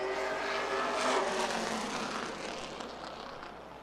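A Charger-class race car laps Florence Speedway during an evening race, its engine roar rising as it passes, then fading into the distance over a few seconds.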